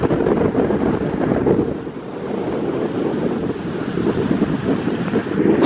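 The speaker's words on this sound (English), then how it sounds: "It's a bit windy around here." Strong wind buffets the microphone in a continuous low roar during a snowstorm in Alberta, Canada, gusting slightly louder and softer, with no voices.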